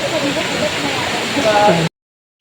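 Water flows at a forest nature resort in Liliw, Laguna, an even rushing wash heard up close while a person talks over it, before a sudden cut to silence.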